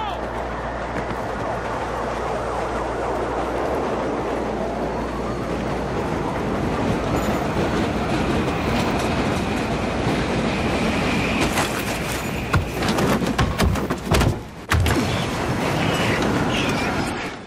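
A train runs in the video game Battlefield 3, a loud, constant rumble of wheels and rolling cars with clattering bursts toward the end and voices underneath.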